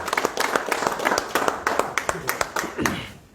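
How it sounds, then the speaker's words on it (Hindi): A small group claps at a BJP joining event in Surankote, Jammu and Kashmir, sharp uneven hand claps close by that thin out toward the end, with people talking underneath. "तालियों के साथ इस्तकबाल करें।"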